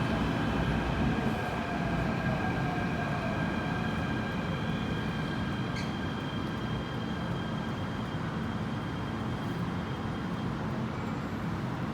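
A metro train rumbles steadily into Po Lam Station, a low continuous roar with faint tonal whine on top, no voices.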